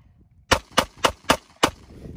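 Five sharp 9mm pistol shots fired into a meat target, the first four in a quick even rhythm and the fifth after a short pause, loud and close against a quiet background.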